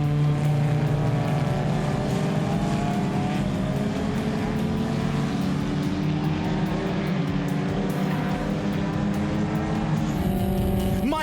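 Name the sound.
race cars on a circuit, one overtaking another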